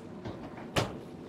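A pull-out spice drawer in a yacht galley slides with a faint rumble, then lands with one sharp knock.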